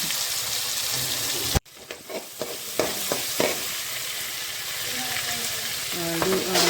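Tomatoes and chili powder sauté in a pan for a drumstick thoran, making a steady loud sizzle broken by a brief cut, then spatula scrapes and stirring over continued frying.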